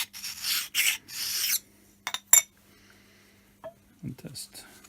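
Oil stone rubbed along the top slide of a Myford 7x7 lathe, giving several short rasping strokes near the start, then scattered brief scrapes with quiet gaps between.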